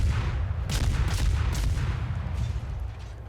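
Heavy naval gunfire in World of Warships, with a ship firing arcing shots over an island. Deep rumbling engine drone is broken by several muffled booming salvos across three seconds.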